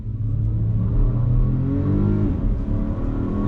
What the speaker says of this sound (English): let's see the acceleration on wet pavement from a dead stop. I'm just gonna go straight on throttle.